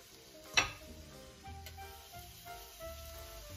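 Liege waffle dough, a golf-to-baseball-sized lump, lands in a hot waffle iron with a brief sharp hiss, then settles into a low, steady sizzle with faint ticks and clicks, close and alone without talk.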